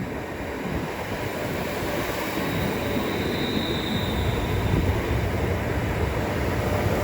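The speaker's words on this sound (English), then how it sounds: "as the 1737 to London Euston from Birmingham arrives" A London Northwestern Railway Class 350 electric train, the Birmingham to London Euston service, arrives at Watford Junction on the West Coast Main Line with a steady loud rumbling roar of wheels and motors and no voices.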